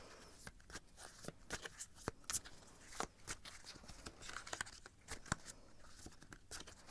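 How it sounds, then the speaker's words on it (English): Tarot cards are shuffled close by in a quiet room, producing a run of soft, irregular riffling snaps and slides that continue for several seconds without talk. "I'm going to shuffle a little bit more"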